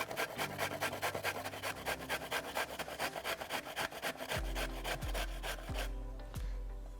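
Carrots grated by hand in a home kitchen, a steady rhythmic rasping of quick strokes against the grater, close and fairly loud, with low tonal background hum partway through.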